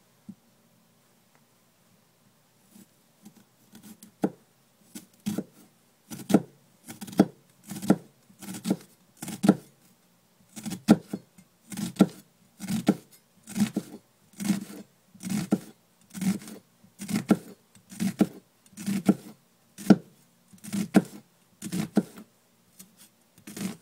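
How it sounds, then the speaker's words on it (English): A knife chops onion on a board in a steady, even rhythm of crisp strokes. It starts slowly, then keeps up roughly twenty regular chops, close and alone. "this is how to chop onion for sauce."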